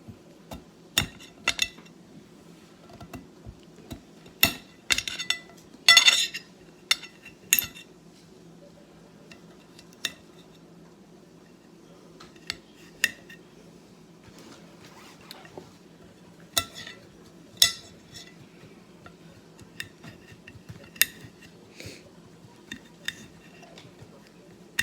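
Carrots are sliced with a kitchen knife on a cutting board in a home cooking setting, producing scattered sharp chops and clicks with a few louder clattering knocks, close and irregular over a faint low hum.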